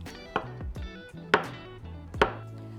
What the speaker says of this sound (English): let's cube some avocado